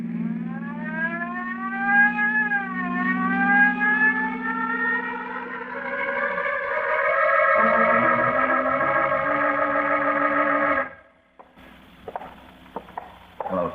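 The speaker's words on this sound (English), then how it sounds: "And use that siren." A wailing siren rises and holds a steady howl for about ten seconds, then cuts off abruptly, leaving faint clicks and noise, on an old 1950 radio drama recording.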